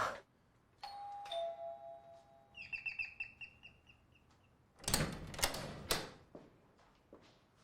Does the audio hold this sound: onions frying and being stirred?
no